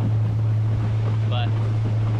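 Strong south wind blows across mangrove water, a constant rushing buffet against the microphone over a steady low boat hum.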